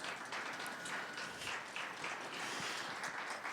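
Congregation applauding during a Sunday Spanish-language church sermon, a steady wash of hand claps filling the hall for a few seconds with no voices on top.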